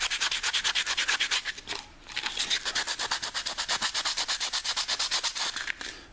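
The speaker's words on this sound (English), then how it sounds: "we've got some fairly coarse glass paper here, and I'm going to just take some time to rub it" A softwood tray is rubbed down by hand with coarse glass paper, giving steady rhythmic rasping strokes of near, even loudness, with a brief pause partway through before the scrubbing resumes.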